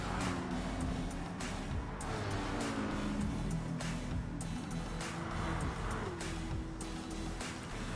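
Porsche Cayman race car in GT Sport at Tokyo, its engine note loud and continuous with rising and falling pitch through gear changes and corners, plus faint tire noise.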